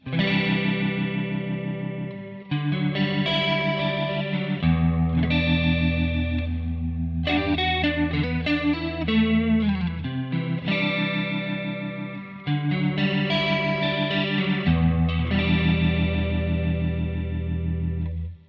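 An electric guitar plays chords and short riffs through a heavy, swirling rotary effect with tape delay repeats, loud and continuous, alone without speech.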